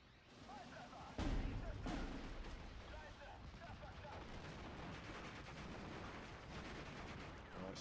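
Panzerwerfer rocket artillery launching in the World War II strategy game Steel Division 44, a heavy blast followed by a dense, continuous rumble of firing and battlefield noise that stays loud throughout.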